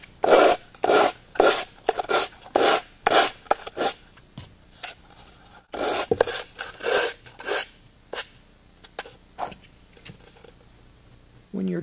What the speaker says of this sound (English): sand off those edges